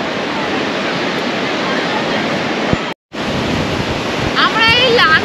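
Gentle sea waves wash onto Mandarmani beach in West Bengal in a continuous broadband roar with wind, broken by a brief silent cut, and a voice speaks near the end.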